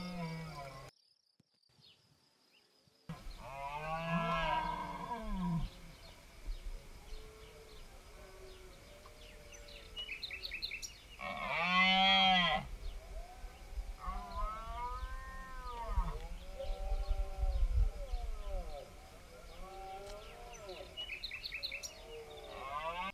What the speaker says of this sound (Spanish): en el silencio del bosque destaca este bramido, que podemos escuchar a lo largo de todo el día